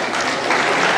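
An audience breaks into applause during a science lecture on the chemical history of a candle, a brief, dense burst of many hands that swells slightly partway through.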